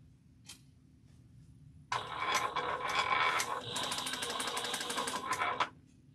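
Sewing machine top stitching a fabric bag pocket: after a brief click, a rapid, close mechanical chatter of stitching runs for about four seconds, then stops abruptly, with no talking.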